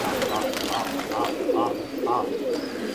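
Pigeons coo repeatedly in a loft, a series of soft rounded calls pulsing about every half second under someone talking and steady background noise.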